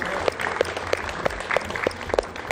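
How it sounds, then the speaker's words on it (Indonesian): An audience claps for Michael at a comedy showcase, steady scattered handclaps at moderate volume, fairly close, with little other sound. "kita kasih aplaus untuk Michael"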